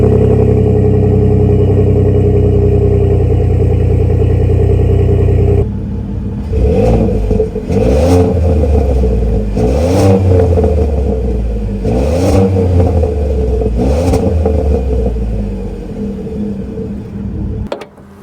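A 2023 Ford F-150's 3.5-liter engine idles loudly with a steady drone, then gets revved four or five times, each rev rising and falling in pitch before dropping back to idle, with no talking.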